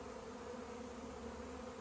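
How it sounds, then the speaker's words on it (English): Honeybees buzz as they fly around the hive entrance, a faint continuous low drone of many wings humming together without pause. "that's going to call in all these bees that are flying around here that you can see"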